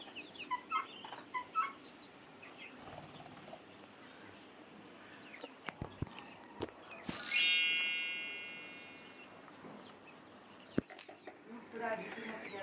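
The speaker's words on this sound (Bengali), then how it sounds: "আমার কাছে এই সাদা কোয়েলটা অনেক ভালো লাগে" White quail kept in a small backyard flock give soft, faint chirping calls near the start and again at the end, with a single bright metallic ding ringing out in the middle of a quiet scene and light talking around it.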